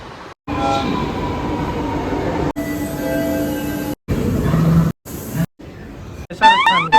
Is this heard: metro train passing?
yes